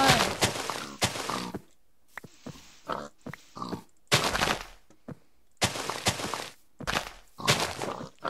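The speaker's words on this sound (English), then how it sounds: "Hit the pig." Pig grunting and oinking in Minecraft, mixed with repeated thumping hits in loud clustered bursts separated by brief quiet gaps, close and prominent throughout.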